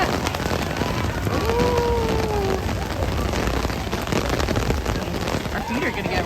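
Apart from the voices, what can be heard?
heavy rain falling at Magic Kingdom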